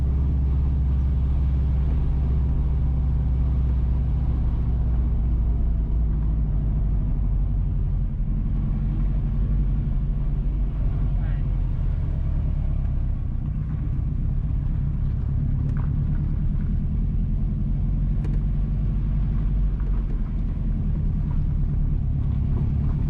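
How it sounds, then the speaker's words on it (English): Steady low road rumble from a car driving along a rural road in Mile Gully, St. Mary Parish, Jamaica, heard from inside as a continuous close engine and tyre drone with no talk. "Currently, we are driving northeast in Mile Gully towards Cool Spring, St. Mary Parish."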